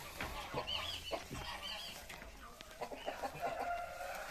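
Several bantam chickens cluck and chatter softly nearby in a coop, with scattered higher calls and rustling, fairly quiet and continuous.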